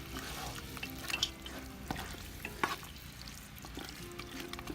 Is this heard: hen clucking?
no